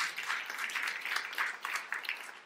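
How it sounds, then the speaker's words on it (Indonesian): A church congregation claps steadily in a dense, continuous patter of applause, moderately loud and fairly close, lasting a few seconds without voices over it. "Yang percaya tepuk tangan yang meriah untuk kemuliaan."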